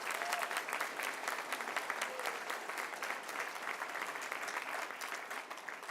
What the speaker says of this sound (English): So yes, round of applause for that.